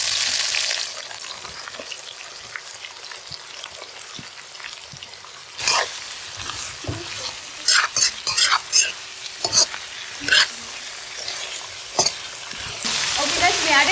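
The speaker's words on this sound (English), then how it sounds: "Okay, guys, we added onions and mustard to the oil." Onions and mustard fry in organic coconut oil in an iron pan, giving a steady sizzle broken by sharp scraping stirs and clinks, with faint voices now and then.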